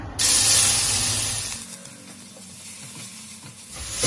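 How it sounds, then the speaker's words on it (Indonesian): Garlic hits hot oil in a wok and bursts into a loud sizzle, then settles into a softer, steady frying hiss before flaring up again at the end. "wajannya udah panas, kita kasih 3 sendok makan minyak goreng. Kita tumis bawang putihnya"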